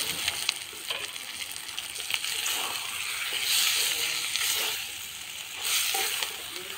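Chicken pieces hit hot, oil-released spiced masala for a spinach chicken curry and sizzle steadily, with crackling spitting and occasional stirring surges throughout.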